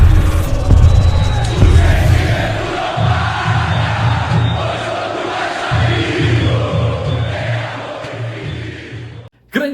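Channel intro jingle for a Vasco da Gama football fan show, packed with a loud roaring crowd and chanting supporters over a throbbing beat that runs steadily before cutting off abruptly near the end.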